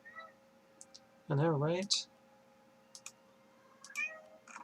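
A pet cat meows loudly indoors, a drawn-out wavering cry up close, with brief mouse clicks around it and a short spoken remark just after.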